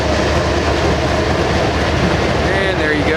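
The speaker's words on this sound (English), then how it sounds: "You're gonna see how close the train runs to the canal" A slow train rolls past on tracks running right beside a canal, a loud continuous rumble with rhythmic clickety-clack and faint wheel squeal near the end.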